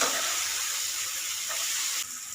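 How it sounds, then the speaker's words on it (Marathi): Ginger-garlic paste and tomatoes frying in a pan for a spicy chicken fry give a steady, close hiss of sizzling that runs unbroken, then eases slightly near the end. "आता यामध्ये घालूया एक चमचा आल्या लसणाची पेस्ट तर ही देखील भाजून घेऊया"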